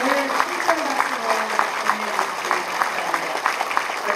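Steady, full applause from a ceremony crowd at an education superintendent's inauguration, dense clapping sustained evenly throughout, with a voice faintly audible beneath it.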